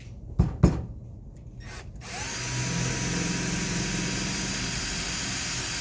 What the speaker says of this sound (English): So I'm gonna first drill my hole in my anode or my keep piece.